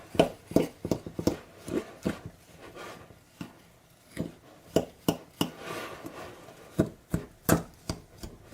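Butter is chopped into an apple crisp crumble mixture in a bowl, a series of sharp, close knocking chops in irregular bursts with brief pauses between.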